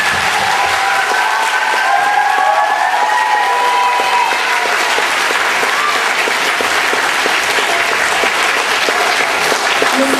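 An audience at a third grade school performance breaks into a steady, dense round of clapping for a teacher, sustained at full volume for about ten seconds with a few faint voices mixed in.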